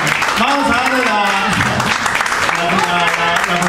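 A crowd at a live jazz gig in Dorian Café keeps up a steady bed of applause and cheering while someone talks loudly over it.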